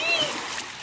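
Water splashes in a swimming pool lit blue at night, a short burst of close splashing and sloshing with children's voices in the background.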